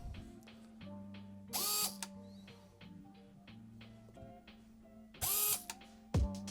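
CYMA MP5 airsoft gun firing single shots on semi-auto, two sharp bright cracks a few seconds apart standing out over quieter mechanical clicking and a low background hum, fairly faint overall and without talk.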